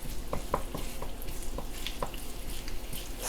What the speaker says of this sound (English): Nice and gentle sizzle.